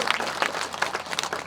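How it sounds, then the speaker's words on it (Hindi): A crowd at a BJP political rally in Chatra claps in quick, uneven bursts, close and fairly loud, with a lively patter throughout. "जोरदार ताली बजाओ"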